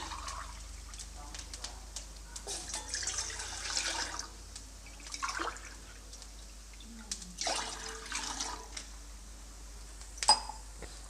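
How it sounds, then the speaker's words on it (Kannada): Two glasses of water are poured into a cooking pot for sago payasam, heard as several soft splashing bursts with quiet gaps between them, and a voice now and then in the background. "ಅದಕ್ಕೆ ಎರಡು ಗ್ಲಾಸಷ್ಟು ನೀರು ಹಾಕ್ತಾಯಿದ್ದೀನಿ"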